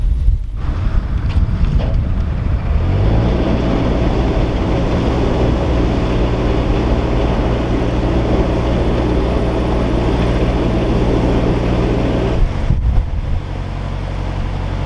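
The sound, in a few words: strong wind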